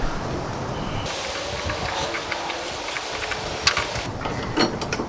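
Threading an attachment onto the torsion bar of a rotten old 1956 VW Beetle, a steady mechanical grinding and rasp with occasional metallic clicks and small knocks, close and fairly loud.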